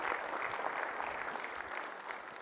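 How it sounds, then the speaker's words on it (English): Sustained applause from a keynote audience fills the hall, a dense steady wash of many hands clapping that gradually eases toward the end, with no talking over it. "Give them a round of applause."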